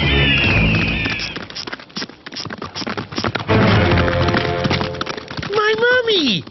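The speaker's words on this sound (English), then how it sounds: "Riding a horse?" A horse galloping in the animated western Lucky Luke, a fast patter of hoofbeats mixed with music and cartoon sound effects while voices talk over it.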